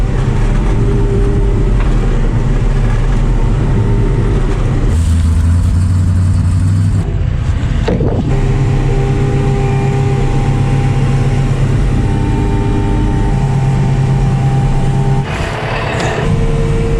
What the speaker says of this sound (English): Now I got the dump truck.